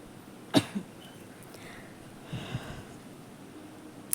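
A person with a cough after getting soaked in rain gives two short, quiet coughs a couple of seconds apart in an otherwise calm, near-silent room.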